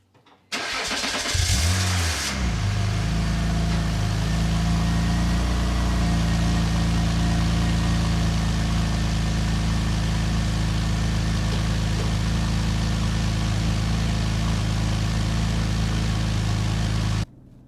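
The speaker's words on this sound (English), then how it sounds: "Here is the cold startup on the 2005 330 Ci with a ZHP package." A 2005 BMW 330Ci with the ZHP package cold-starts: a brief crank and a sharp flare of revs, then it settles into a steady, loud, close-up idle that holds evenly to the end.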